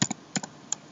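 Computer keyboard keys tapped while an email address is entered, a handful of crisp close clicks in quick pairs with short pauses between.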